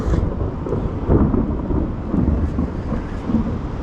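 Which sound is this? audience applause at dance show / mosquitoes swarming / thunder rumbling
thunder rumbling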